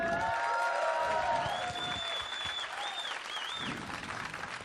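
Applause and cheering from a convention crowd at a furry night live show, loud clapping with scattered whoops that eases into a steady patter while a few voices call out over it.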